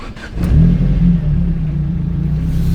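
A Ford Focus RS Mk1 engine fires up close by and revs, a steady mid-pitched rumble that rises briefly and then settles into a loud idle for a few seconds.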